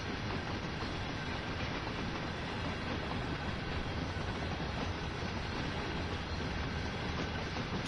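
A train hauled by four locomotives with a caboose on the rear rumbles continuously in the Train Sim World 2 game on the Clinchfield Railroad, a steady, even rolling noise at low volume with no talk.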